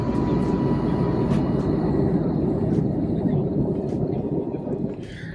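Inside an airplane cabin on a turbulent flight through a thunderstorm, a loud, continuous engine and air roar fills the space, steady throughout with faint knocks and rattles on top and no talking.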